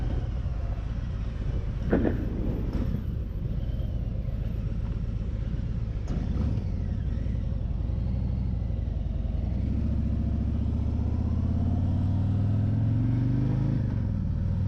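A 2021 Harley-Davidson Tri Glide Ultra trike cruises on a highway with a loud, steady low engine rumble and wind roar, its pitch shifting slightly as it accelerates.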